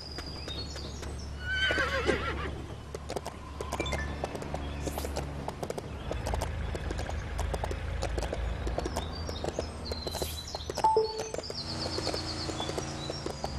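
Horse whinnies and steady clip-clop of hooves in Lego City Undercover on Nintendo Switch, with game sound effects layered over a continuous low background.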